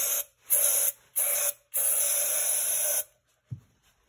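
Several short hissing sprays from an aerosol can of starting fluid onto a 1950 Chevrolet engine, three quick bursts then a longer one, followed by a faint clunk.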